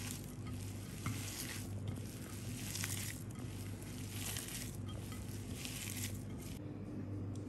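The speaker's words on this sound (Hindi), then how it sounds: "अब इन सब चीज़ों को हम अच्छे से यकजान मिक्स कर लेंगे।" Chopped onion and fresh coriander are stirred together in a bowl, a soft, continuous wet mixing sound. It is faint and close, with a steady low hum underneath and slight swells as the spoon moves.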